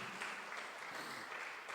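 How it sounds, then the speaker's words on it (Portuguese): Church congregation applauding during a sermon, a steady, dense wash of clapping that holds evenly throughout without pauses. "Você pode aplaudi-lo, igreja, em nome de Jesus?"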